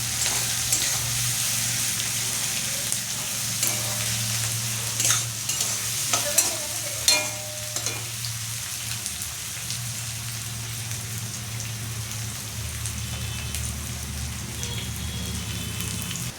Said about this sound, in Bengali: আলুগুলো পেঁয়াজের সাথে একটু ভেজে নিচ্ছি